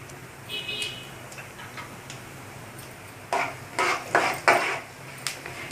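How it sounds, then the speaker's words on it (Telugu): Tempering spices fry in hot oil in a pan for Andhra-style lemon rice; faint sparse ticks give way to loud bursts of crackling and popping near the end. "ఇప్పుడు దీంట్లో పోపు దినుసులు వేసుకొని బాగా వేయించుకుందాం"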